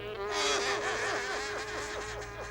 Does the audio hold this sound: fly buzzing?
yes